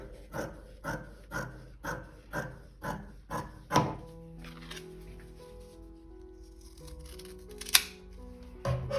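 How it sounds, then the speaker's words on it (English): Scissors cut through fabric in a quick, even run of about eight crisp snips up close, followed by quieter handling noises and one sharp click near the end. "And then I can cut a"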